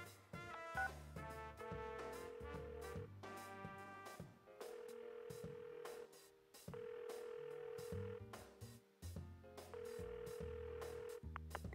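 Telephone ringing tones during a call in the video game Persona 4 Arena, repeating in steady bursts over game music with short gaps between rings.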